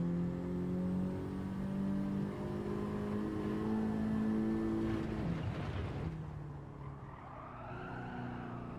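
A race car engine in Gran Turismo 7 holds a loud, steady high-revving drone, then breaks into a burst of tire skid and squeal before settling back to a lower engine tone.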